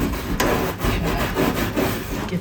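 Stiff brush scrubbing ash and loose rust off the wheel well of a Ford Econoline van, a steady rasping back-and-forth scrape close up with a few brief pauses between strokes.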